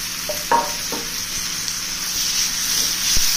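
Potato pieces drop into onions frying in a pan, giving a steady sizzle with a few sharp stirring and scraping knocks near the start.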